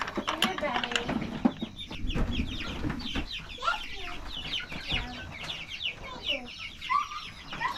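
Several chickens cluck busily inside a coop, close and continuous, with a few louder squawks breaking through as people talk quietly nearby.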